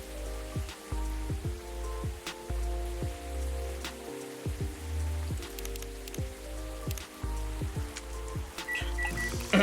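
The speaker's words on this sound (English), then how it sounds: "So, rainy weather today" Rain patters in the cozy café of the video game Coffee Talk, a steady wash of drops under a soft piano-and-synth music bed, without voices.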